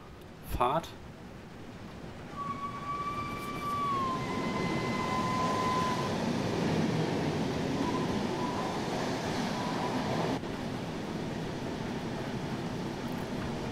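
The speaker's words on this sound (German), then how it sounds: "Können mal den Zug an uns vorbeifahren lassen." A passing train in Train Sim World 4 near Mülheim: a sharp clank, then a long sustained horn tone that bends and fades while the rolling rumble of the cars swells and carries on for several seconds.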